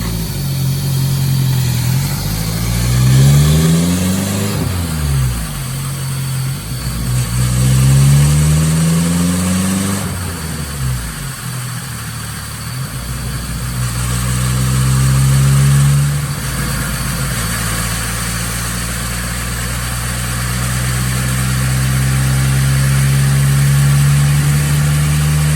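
Turbocharged Mercury Capri RS Turbo run on a chassis dyno through a fourth-gear pull: loud engine revs climbing in repeated sweeps, dropping back and rising again, with a steady drone and whooshing underneath throughout.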